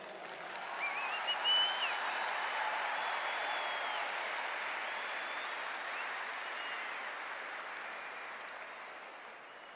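Congregation in a church applauding together, a full, even wash of clapping that swells early and slowly fades over several seconds, no talk over it.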